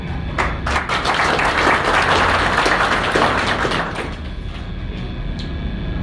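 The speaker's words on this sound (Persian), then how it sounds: "یک تشویق شورانگیز به عزیزان دلانگیز محبت بفرمایید." Audience applause in a lecture hall after a call for enthusiastic clapping at a talk on time and its value; dense, steady clapping that stays loud, then thins slightly toward the end, with no voices.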